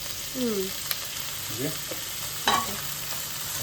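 Tomato and capsicum frying in a pan: a steady low sizzle with a few scraping stirs and a brief clatter of a utensil, close and fairly quiet, with a faint voice at the start.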